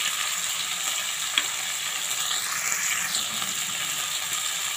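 Chicken pieces with turmeric and salt fry in a pan with a steady, close sizzle, and occasional stirring scrapes and clinks break through it. No voices are heard.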